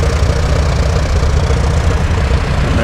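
An Allis-Chalmers tractor at a tractor show runs its engine at a steady idle, a loud, close, continuous low rumble with a faint knocking pulse.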